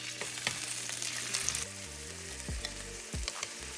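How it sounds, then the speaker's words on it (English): Shrimp sizzle in hot olive oil in a non-stick skillet over high heat, a steady loud frying hiss with background music and no talk. "I have a non-stick skillet here with olive oil, and on about high heat, I wanna add my shrimp"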